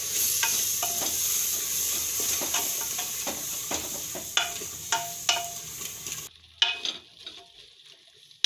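A spoon stirs masala into cluster beans (guvar) frying in a pan, giving a steady sizzle with repeated scraping and clattering strokes, close up; the sizzle drops away near the end while scattered stirring knocks continue.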